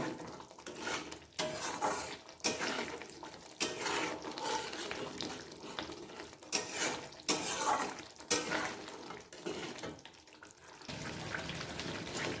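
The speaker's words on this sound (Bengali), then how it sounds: "মশলাটা আমি একটু ভালো করে ভাজা করে নেব।" Metal clattering and scraping in a pan as spices fry, repeated stirring strokes with a steady background sizzle, close and fairly loud, no voices.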